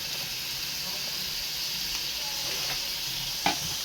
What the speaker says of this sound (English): Saute it again, mix it well so that it gives flavor.